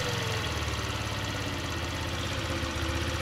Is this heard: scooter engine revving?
yes